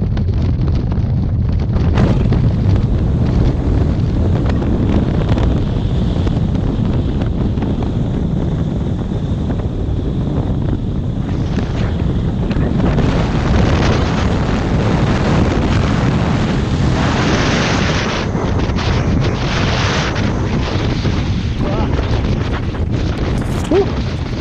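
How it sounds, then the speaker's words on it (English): Gale-force cold wind blasting across an exposed mountainside, loud and continuous roaring buffeting against the microphone with surging gusts throughout. "that cold, icy, gale force wind"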